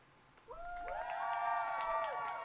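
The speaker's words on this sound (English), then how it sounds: "a big applause to everyone" A crowd cheering and clapping rises abruptly after a quiet start and holds steady, a bright, dense burst of applause with excited voices.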